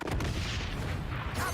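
A grenade blows up in the video game XDefiant, a heavy, booming blast with a rumbling low-end tail filling the whole short moment, close and loud.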